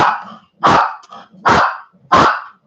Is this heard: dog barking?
yes